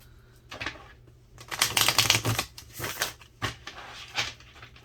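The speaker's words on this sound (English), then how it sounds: "One more shuffle." A deck of tarot cards riffled and shuffled in quick papery bursts, close up, a few rapid flurries with short pauses between.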